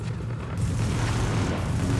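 Dense, loud gunfire and booming blasts from the video game The Division, a continuous rumbling barrage of shots and explosions with no pauses.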